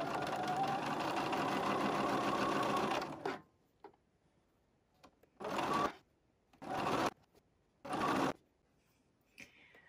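A sewing machine stitches quilt squares along an angle, first in one long continuous run of rapid needle clatter, then in three short bursts separated by quiet pauses.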